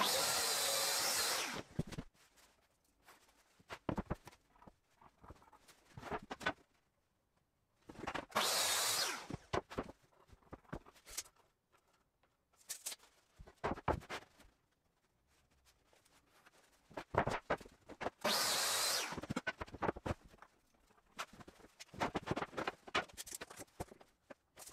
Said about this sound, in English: First, I cut all the panels to the final size using the track saw.